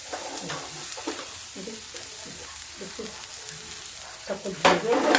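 Grated cauliflower and vegetables frying in a pan for a baingan bharta-style dish, soft sizzling with intermittent scraping and stirring strokes, louder clatter near the end, no talk.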